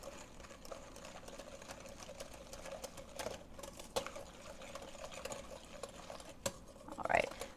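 Whisking a dairy-free nectarine gelato mix in a pan on the heat gives a steady, soft scraping and swishing of wire against metal, with a few louder clinks near the end.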